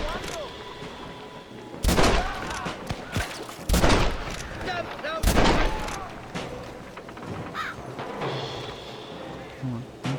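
Loud gunfire in Red Dead Redemption during the assault on Fort Mercer, several sharp heavy blasts spaced a couple of seconds apart, over a busy background of bird chirps and scattered noise.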